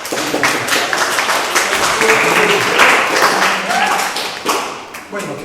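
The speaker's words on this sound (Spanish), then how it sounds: "un aplauso para el compañero" Classroom audience applauding a fellow student during a lecture on Mexican codices, a dense, steady patter of many hands with voices mixed in throughout.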